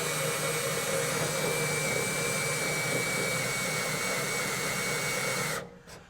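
A drill with a hole cutter grinds into the metal rear floorboard of a 1967 Kaiser Jeep M715, a loud, steady, high whining drone held for several seconds before it winds down abruptly.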